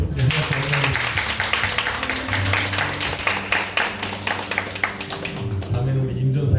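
A church congregation claps in steady rhythm at a Friday overnight worship service, the close, even beats running over sustained music and a voice throughout.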